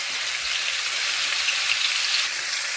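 Mushroom-stuffed Ukrainian rolls (kruchenyky) fry in a pan with a steady, close sizzle and faint crackle, no talking.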